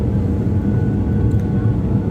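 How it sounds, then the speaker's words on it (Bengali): Airplane cabin during descent to landing, a steady loud low-frequency engine and airflow rumble filling the space without break. "আমাদের বিমানটি এখনই ল্যান্ড করতেছে আস্তে আস্তে নিচের দিকে নামতেছে"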